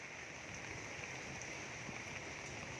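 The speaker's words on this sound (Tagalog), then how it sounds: "tingin ko hindi pa titigil yung ulan na yan" Steady rain falls continuously during a rainy patrol, making an even, unbroken hiss that holds at the same level throughout with no other clear sounds.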